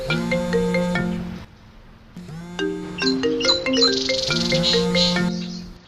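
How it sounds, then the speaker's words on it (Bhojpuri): Melodic phone ringtone of an outgoing call, a sequence of bright chiming electronic notes in short tuneful phrases, pausing briefly before resuming with higher tinkling tones, clear and fairly loud. "ए डब्बू के बाबू, तनी ओकरा भाई के फोन लगा के बोला लता।"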